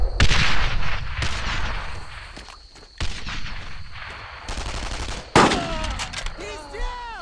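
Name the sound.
enemy MG machine gun fire in Brothers in Arms video game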